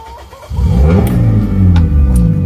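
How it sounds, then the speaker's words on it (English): A car engine catches after a short crank, revs loudly right away and settles into a steady, close, rumbling idle with no talking. "now that the car is running"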